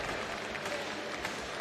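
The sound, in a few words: audience applause for a timbersports competitor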